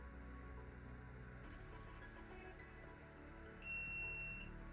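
A single high electronic beep from a torque angle meter during LS engine assembly sounds near the end, brief and fairly faint over a quiet background hum.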